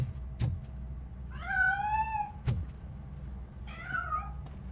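A cat meows twice in RoboCop: Rogue City, drawn-out and wavering, with sharp clicks between the calls against a quiet background.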